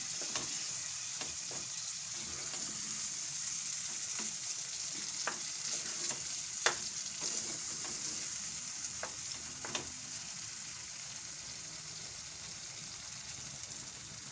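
Yogurt poured into hot oil for a Gujarati fenugreek and green chilli dish sizzles and crackles steadily while being stirred, with occasional louder spoon clicks against the pan and no talking.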